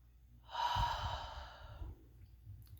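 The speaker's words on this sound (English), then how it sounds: "Take a deep breath" A deep breath let out as a long, airy sigh, close and fairly loud, trailing off over about a second and a half, followed by quiet.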